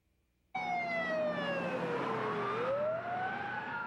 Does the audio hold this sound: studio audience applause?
no